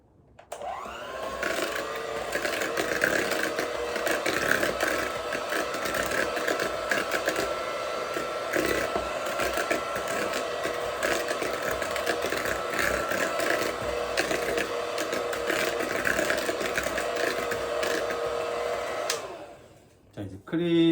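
An electric mixer beats eggs into pound cake batter with a steady, continuous whir that holds loud and even for about twenty seconds before stopping.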